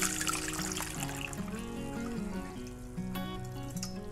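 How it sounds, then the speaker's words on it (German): Sour cherry juice trickling and dripping from sour cherries draining in a sieve, a soft, faint, continuous dribble close by. "Für den Kirschbelag lassen wir uns erstmal die Sauerkirschen in einem Sieb abtropfen."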